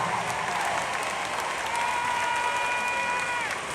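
Sustained applause from a large audience at the Invest Fest financial conference, a broad, steady wash of clapping with faint cheering mixed in, continuous at even volume.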